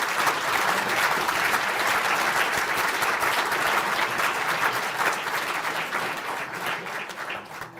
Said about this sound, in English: I think we might give everybody a round of applause.